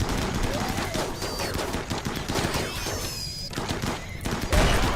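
Dense, continuous gunfire crackles through a RimWorld colony battle involving crossbows and guns, a steady barrage of overlapping shots under busy game noise.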